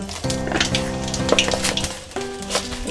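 Panch phoron spices sizzle in hot oil left from frying pangas fish, a steady close crackling hiss with light stirring clinks and a sustained tonal hum running underneath.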